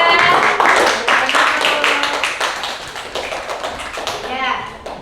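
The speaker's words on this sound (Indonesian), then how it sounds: "beri aplaus untuk kelompok 3" Classroom applause for a student group, with a burst of many hands clapping fast and loud that slowly thins out, while children's voices chatter underneath.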